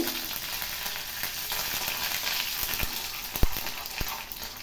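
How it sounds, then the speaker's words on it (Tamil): Mustard seeds, urad dal and curry leaves hit hot oil, giving a continuous bright sizzle with scattered pops and crackles, close and fairly soft. "நம்ம எடுத்து வச்சுருக்கிற கடுகு, உளுந்தை போட்டுடலாம்."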